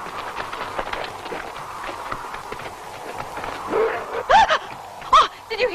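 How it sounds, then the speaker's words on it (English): Dogs bark in short sharp bursts near the end, a few yips and howl-like calls over a murky background where people talk. "It's just the dogs."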